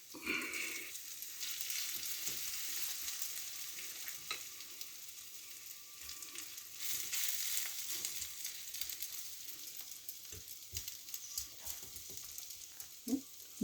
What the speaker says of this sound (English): So the oil has been heating away, and we're going to put this on very quickly and create our